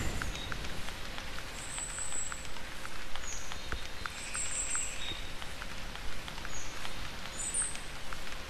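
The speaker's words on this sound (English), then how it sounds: "And it starts raining." Steady rainfall in the hunting game The Hunter 2013, a soft continuous hiss spread evenly across the scene with faint bird or insect calls chirping high above it, no voices.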